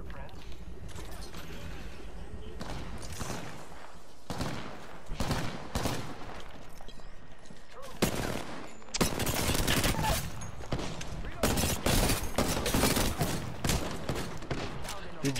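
Heavy gunfire in the battle-royale shooter Apex Legends: sustained automatic bursts and volleys, loud and close, with mechanical clicks and in-game noise, growing denser toward the end.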